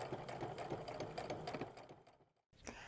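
Sewing machine chain piecing fabric, a rapid continuous mechanical stitching rattle for about two seconds, then a stop and a brief restart, faint and close.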